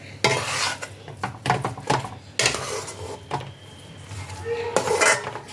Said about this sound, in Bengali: এইভাবে এটাকে ভালোভাবে পাক দিতে হবে যতক্ষণ না এটা একটা ডোয়ের আকৃতি নিচ্ছে